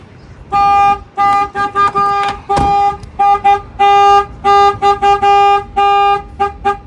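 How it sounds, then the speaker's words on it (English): A semi truck's alarm, tripped by opening the cab door, honks the horn in loud repeated bursts with an uneven, pulsing rhythm, close by. "I'm going to go ahead and open the door. That will set off the alarm."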